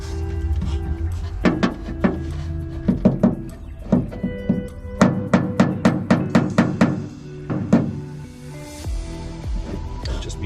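A VW bus body panel being tapped from behind to work out a dent gives a run of dull, close metallic thunks, some single and some in quick rhythmic bursts, with brief pauses between them.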